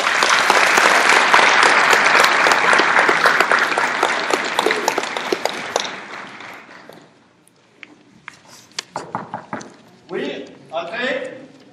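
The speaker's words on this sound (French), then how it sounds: "je pense qu'on peut les applaudir" A church congregation at a French family Mass applauds loudly and steadily for several seconds before the clapping fades out, followed by scattered claps, shuffling and voices talking.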